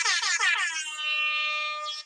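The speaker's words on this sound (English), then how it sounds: "So I think it calls for a DJ air horn." A DJ air horn sound effect blares from a phone app: a few quick stuttered blasts, then one sustained bright horn tone that cuts off after about two seconds.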